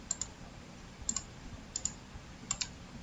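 A computer mouse clicks on emails in a Gmail inbox, sounding as sharp, close, light clicks that come in quick pairs about once a second against faint room noise.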